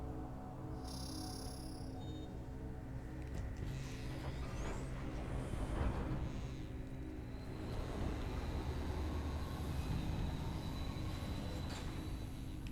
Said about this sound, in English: yet another tram